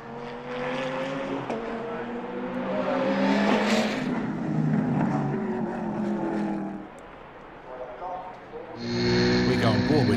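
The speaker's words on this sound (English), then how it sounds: "We go on board with Thierry Pierrier now" Endurance race cars run at Le Mans, heard from on board: a loud, close engine revs up through the gears, eases off for a braking zone, then rises again, with a commentator talking over it.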